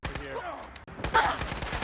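Rapid automatic gunfire in the video game Fallout 4, a close, loud burst of closely spaced shots after a brief pause, with game sounds underneath.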